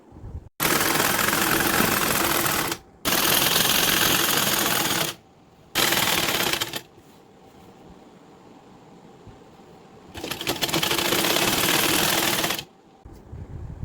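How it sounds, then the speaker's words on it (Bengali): A sewing machine stitches a linen-like school dress in several long, loud runs separated by short pauses, with a steady mechanical whirr and no voices. "এই যে সেলাই হয়ে গেছে"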